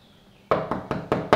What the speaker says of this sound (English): I'll keep knocking like Mantis!